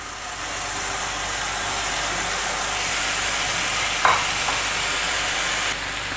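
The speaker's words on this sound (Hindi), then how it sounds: "जैसे ही ऑयल गरम होगा चिकन को जो हमने मैरिनेट करके रखा था उसके दोनों पीसेस को इस तरह से पैन में डाल देंगे" Marinated chicken pieces fry in hot oil in a pan, giving a steady, loud, broadband sizzle throughout with a brief spatter near the end.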